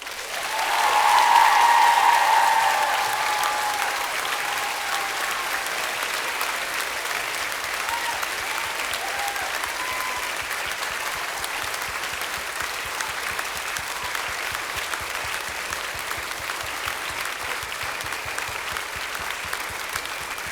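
Sustained applause from a school concert audience giving a standing ovation at a middle school choral concert, loudest at the start and then holding as a steady, even wash of clapping for the rest of the stretch.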